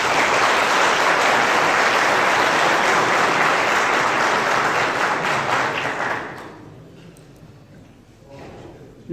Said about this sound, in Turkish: lütfen bir alkış istiyorum